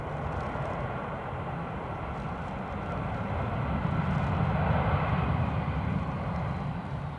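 An Icelandair Boeing 757 at Dublin Airport produces a steady, moderate engine rumble and broadband roar that rises slightly and then eases, heard from a distance without talk.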